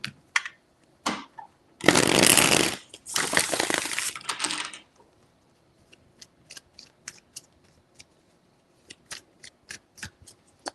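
Tarot cards being shuffled in two long riffling bursts, followed by scattered light taps and card snaps as cards are laid out, close and fairly loud with no talking.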